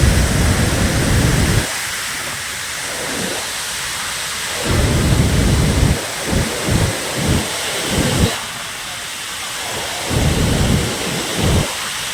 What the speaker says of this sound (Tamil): ஐந்து அருவிகளிலும் காட்டாற்று வெள்ளம் போல தண்ணீர் செந்நிறத்தில் ஆர்ப்பரித்து கொட்டுகிறது.